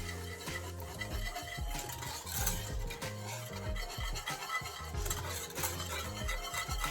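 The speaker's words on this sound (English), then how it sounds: "I'm going to be taking a whisk and whisking everything together" A whisk scrapes and stirs through a green plantain porridge mixture, producing rhythmic rubbing and scratching strokes under a low tonal background, close and steady throughout, with no talking.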